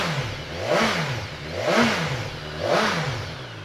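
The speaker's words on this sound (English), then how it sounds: "but let's get it fired up" BMW S1000XR motorcycle, a 2016 model, revving in three distinct blips, its engine note rising and falling each time, loud and close with no talking.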